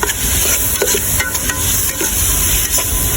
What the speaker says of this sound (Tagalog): Yun, gisa na, gisa.